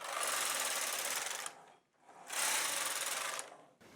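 A bulky knitting machine carriage pushed across the needles twice, each pass a loud, close, whirring rattle lasting about a second and a half, separated by a brief pause, with no voices.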